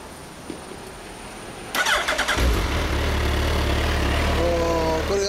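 A 2015 Suzuki GSX1300R Hayabusa motorcycle engine cranks over with a short burst of starter noise, then fires and settles into a loud, steady idle with a low rumble held to the end.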